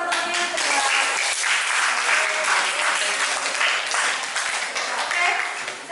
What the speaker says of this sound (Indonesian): Kasih aplaus dulu dong buat teman-temannya.